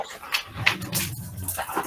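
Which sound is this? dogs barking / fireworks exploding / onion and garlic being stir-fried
dogs barking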